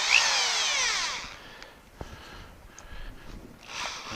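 A lead screw and nut on a Boyar Schultz surface grinder, being broken in with abrasive, are run back and forth by hand, giving a grinding, whirring scrape that rises and fades with a few faint clicks between strokes.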